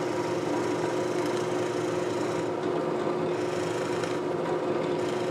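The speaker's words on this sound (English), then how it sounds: "Same idea, only this time we're going to drill all the way down." A drill with a Forstner bit bores all the way through wood, giving a constant, loud, steady motor whir with a grinding edge and no pauses.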